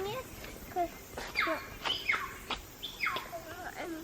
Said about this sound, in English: It's a bird making the craziest sounds.